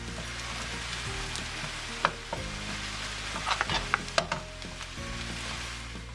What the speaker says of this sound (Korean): 소스의 풍미를 살리기 위해선 야채도 역시 태우듯이 볶아주도록 합니다